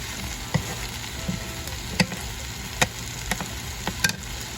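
A shrimp, sausage and okra succotash cooks down in a pan with a steady, fairly loud sizzle, punctuated by occasional sharp scrapes and taps from stirring.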